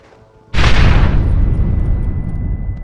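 In Red Dead Redemption, charges planted at a gate go off with one sudden loud boom. A deep rumble follows and slowly fades, with faint debris crackle.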